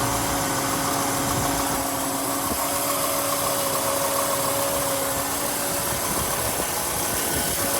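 A restored 1965 Chevy Impala convertible with its original 327 V8 and four-speed sits idling, a steady, even engine rumble with a faint hum on top, heard alone and close throughout.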